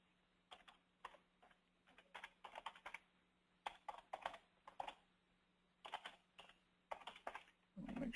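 Login details typed on a computer keyboard, with bursts of quick, close keystrokes separated by short pauses over a faint steady hum.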